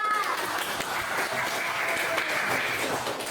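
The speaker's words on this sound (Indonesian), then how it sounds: "Tepuk tangan semuanya untuk Indah" Students in a classroom clap for a classmate, a dense, even patter of hands that is moderately loud and lasts a few seconds, with some voices mixed in.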